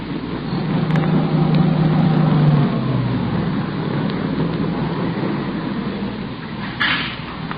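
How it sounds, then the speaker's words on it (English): A sedan swings off a dirt road and pulls to a stop near a shack, its engine a steady close rumble that eases off and settles, with no voices over it. "It swung off the dirt road and pulled to a stop near the shack."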